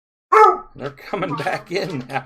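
A family dog barks a few times in the background at the start of a home live stream, then people talk over the rest.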